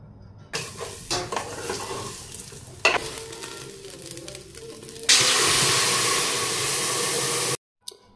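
Masala frying in a pan with paneer and peas tipped in, stirring scrapes and clatter giving way to a loud, steady sizzle that holds for a couple of seconds before cutting off.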